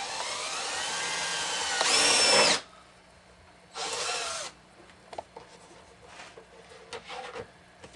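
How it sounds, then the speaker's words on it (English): Power drill with a bit boring a hole through sheet metal, a loud high-pitched whining burst followed by a second shorter burst, then quiet handling clicks and taps nearby. "we're going to take the same drill and drill bit and put one hole through the sheet metal on one of the corners"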